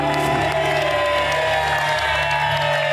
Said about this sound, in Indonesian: Ladies, boleh berikan tepuk tangan untuk Rifki dan juga Mama.